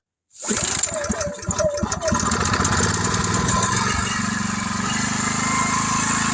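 A Powersmart PS5040 inverter gas generator, 3500/4400W, catches on a single pull start, sputtering briefly before settling into a steady, loud, close running drone with no voices over it.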